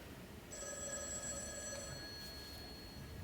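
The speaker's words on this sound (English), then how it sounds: "nice classic telephone ringing stuff there" A classic telephone bell rings with a bright, sustained metallic tone, a single continuous ring heard clearly against quiet room noise.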